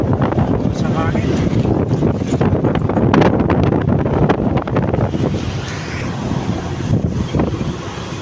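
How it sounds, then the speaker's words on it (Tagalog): Strong wind buffets the microphone in a constant loud roar across an open seaside area, with a voice speaking faintly underneath. "Lakas ang hangin dito."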